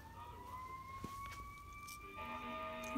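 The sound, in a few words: sirens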